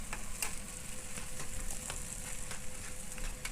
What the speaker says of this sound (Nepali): यो चाहिँ लसुनको पेस्ट हालेँ